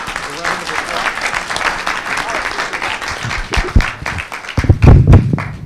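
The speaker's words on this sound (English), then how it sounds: "Let's give our panelists a round of applause" An audience gives the panelists a round of applause, loud and close, dense clapping for about three seconds before it thins and gives way to handling thumps and a voice speaking near the end.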